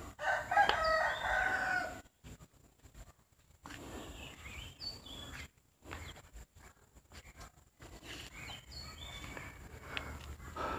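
A rooster crows loudly and close in a backyard among banana trees, one long harmonic call at the start, followed by quieter clucking and occasional bird calls from other chickens.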